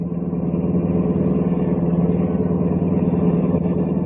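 A car driving through a city toward a manufacturing district as a vintage radio-drama effect, a steady mid-pitched engine drone with a gentle pulsing throb, close and continuous with no voices.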